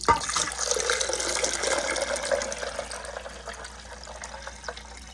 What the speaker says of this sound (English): And then you're going to take your water and pour that on in.